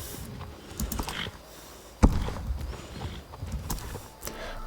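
Horse hooves clip-clopping in the Star Stable Online video game, a steady run of light thuds with one sharper louder hit partway through, moderately close with faint game ambience behind.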